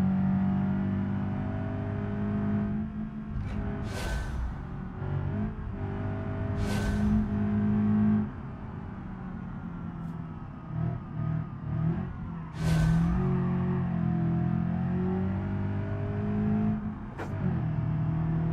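Simulated car engine revving and racing through a lap in BeamNG, a sustained loud drone that rises and falls with gear changes, broken by occasional sharp higher bursts, with no talking.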